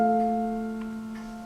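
A piano holds a sustained chord from a bar of a theme, clear and quiet, slowly decaying, with a couple of soft added touches.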